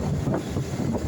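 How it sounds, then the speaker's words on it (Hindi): Wind rushes across the microphone with a low rumble underneath while riding a motorcycle through heavy traffic, a constant close buffeting with no voices. "मैं इस वक्त मोटरसाइकिल पे हूँ,"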